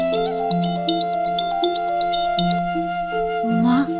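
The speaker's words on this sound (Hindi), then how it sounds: "फोन की आवाज से उठ जाएंगे, बंद कर देती हूँ।" A mobile phone ringtone plays a steady melodic tune of repeating tones, loud and close, with no talking over it.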